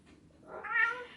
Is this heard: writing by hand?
no